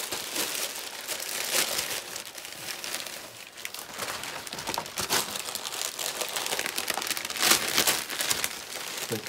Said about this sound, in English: I'll have to tear this off now,